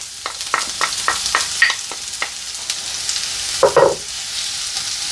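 Onion drops into hot oil with mustard seeds for beef samosa filling, crackling close and loud: a run of sharp pops and ticks followed by a brief burst of sizzle, with no talking.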